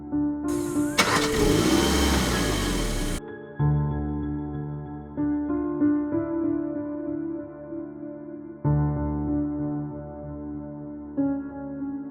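A car engine cranks noisily for a couple of seconds, then catches and settles into a steady idle with a few light revs, close and alone without voices.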